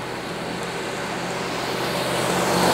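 A reader board truck approaches on a highway, its tire and engine noise a broad roar that swells steadily louder toward the end.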